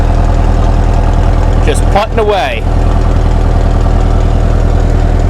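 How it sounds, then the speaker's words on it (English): International Harvester UD9 diesel generator set running at full load, a steady, loud, even exhaust drone throughout, with a brief voice speaking over it midway. "That's the exhaust note at full load"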